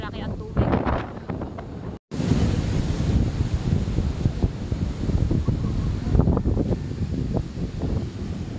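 Strong wind and surging waves hit a shoreline crowded with boats during a typhoon, with heavy gusts buffeting the microphone, a brief dropout, then rough irregular roaring close by.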